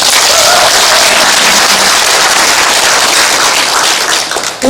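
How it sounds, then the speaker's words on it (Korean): Loud, dense applause from an audience at a mayor's town-hall dialogue with citizens, a sustained roar of many hands clapping throughout before tapering briefly at the end. "오랫동안 수고해주신 시장님께 다시 한번 큰 박수 부탁드립니다"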